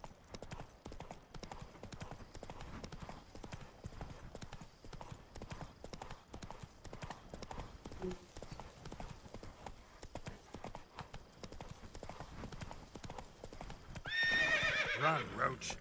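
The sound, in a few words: horse Roach galloping in The Witcher 3 video game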